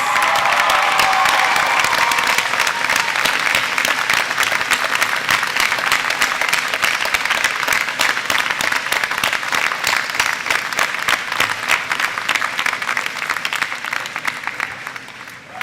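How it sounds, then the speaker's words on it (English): A large audience at a university convocation ceremony applauds continuously for about fifteen seconds, dense and steady, fading slightly toward the end, with no talk over it. "giving them a big round of applause"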